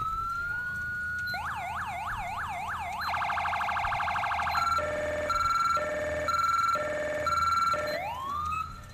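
An electronic police siren in the video game GTA cycles through patterns: a rising wail, rapid yelps, a fast warble, then a two-tone high-low, loud and close with no talking.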